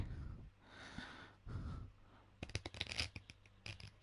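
A deck of playing cards is shuffled during a card trick, a quiet, rapid burst of papery riffling clicks following soft breathing sounds, close and faint.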